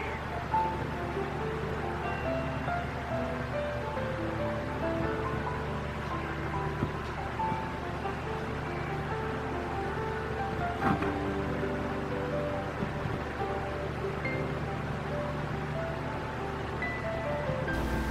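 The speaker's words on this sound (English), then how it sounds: "Then I move the blowtorch under the heat sink." A blowtorch flame heats the heat sink of an LED bulb during a home repair, giving a steady, close, even roaring hiss that runs unbroken for the whole stretch with no talk.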